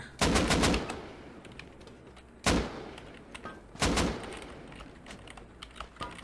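Gunfire in the survival game Rust: three sharp, loud shots or short bursts spaced a second or more apart, with fainter clicks and rattles between them.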